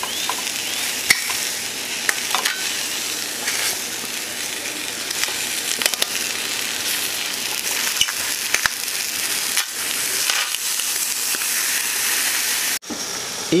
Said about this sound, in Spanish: hay que estar dando la vuelta aquí para que se vayan cociendo bien nuestros jitomates de ambos lados